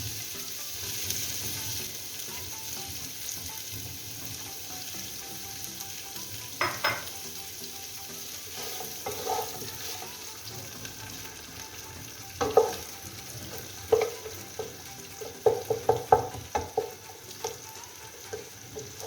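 Chopped onion and bay leaf fry in a pan for a kochu mukhi taro curry, giving a soft, steady sizzle with occasional louder clinks and scrapes of stirring that grow busier toward the end.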